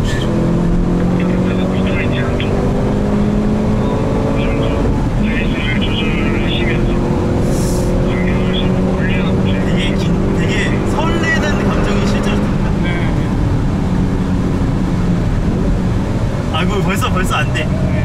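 A Hyundai Veloster N runs on the Inje Speedium circuit, its engine droning and rising through several pulls with whooshing wind and tyre noise, while people talk over it inside the car.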